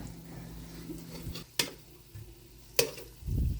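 A utensil scrapes stuck meatball bits off a frying pan. Low rasping strokes are punctuated by two sharp metallic clacks, and a louder scrape follows at the end.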